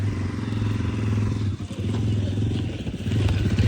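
A motorcycle engine idles and putters nearby with a steady, low, throbbing rumble, briefly dipping before settling back into its pulsing rhythm.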